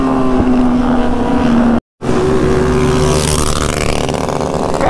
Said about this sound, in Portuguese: Não, mas tá cheio de moto,